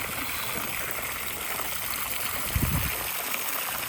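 Water pours steadily into a duck swimming tub, a continuous close rushing splash with a brief heavier gurgle near the end.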